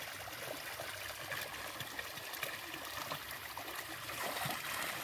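River water trickling and flowing steadily at a river in a Kenyan village, a continuous close babbling wash with no talk.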